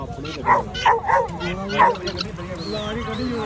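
Several sharp dog barks and yips in a short burst at a horse fair in Tarn Taran, Punjab, with someone talking throughout and a faint whistle-like tone near the end.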